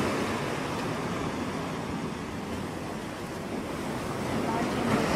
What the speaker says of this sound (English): The waves are crashing over us, and our negative lower energies are going into the sea